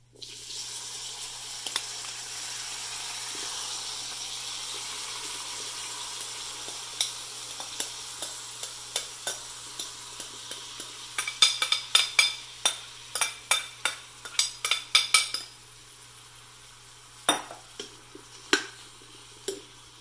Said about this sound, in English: So I'm going to add slowly the vegetables.